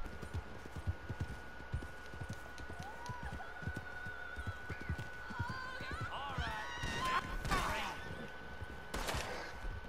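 Horse hooves clip-clopping in Red Dead Redemption 2, a steady rhythmic patter under a voice, joined later by bursts of in-game gunfire and a sustained electronic tone.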